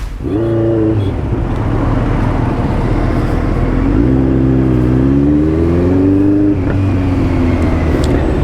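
A Kawasaki Z900 motorcycle engine revs and accelerates while being ridden, its loud close exhaust note rising in pitch through gear pulls, with wind rush behind and no talk.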